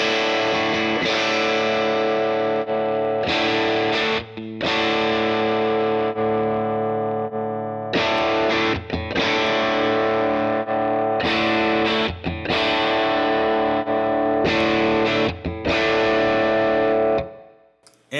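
Distorted tube guitar amp through a Universal Audio Ox set to its 121 ribbon mic emulation. Loud chords ring and sustain in repeated phrases with short breaks between them, ending in a fading final chord.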